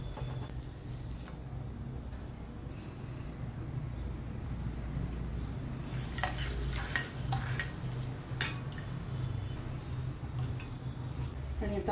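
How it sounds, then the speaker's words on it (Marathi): A tadka tempering is poured into kadhi and stirred, giving a faint steady hiss with a brief burst of brighter sizzling and clinks of a spoon against the pot partway through, with no talk. "हे छान मिक्स करून घ्यायचं आणि हा तडका आपल्याला कढीमध्ये टाकून घ्यायचा आहे"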